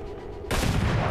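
Gunfire in the video game XCOM 2, a sudden loud burst of shots cutting in halfway through after a quieter stretch, then sustained rattling fire to the end.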